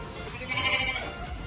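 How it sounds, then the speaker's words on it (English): A baby sheep bleats once at a goat and sheep farm, a short wavering cry heard close and clear over faint outdoor background. "Gana, come see the baby sheep."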